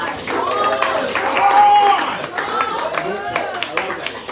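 An audience at an intimate live music session claps for a guest musician, a fairly loud, close burst of applause that swells and then thins into scattered claps, with voices talking over it.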